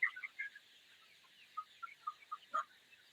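Chickens on a poultry farm, some of them sluggish after a deworming dose, give a series of short clucks and calls, a few close and others softer, spread across a quiet barn.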